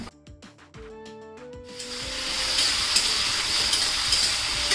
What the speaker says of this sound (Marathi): मिरची चांगली तळलेली आहे बघा त्याच्यामध्ये ना हा बटाटा घालते मी